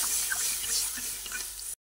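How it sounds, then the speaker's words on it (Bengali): Water is poured from a tap or jug into a cooking pot while the Bengali vegetarian dish chal pepe is prepared; a steady, fairly close hiss and splash runs for under two seconds without talk, then stops abruptly. "এর মধ্যে জল দেব, পরিমাণ মতো জল দিয়ে দিচ্ছি।"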